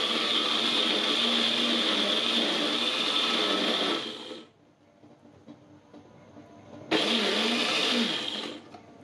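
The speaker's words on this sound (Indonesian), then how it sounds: "Nah, begini aja blendernya, nggak terlalu lama, sebentar doang." An electric blender grinds cooked chilies into a spice paste for grilled chicken, a loud steady whir for about four seconds, a pause, then a second shorter burst.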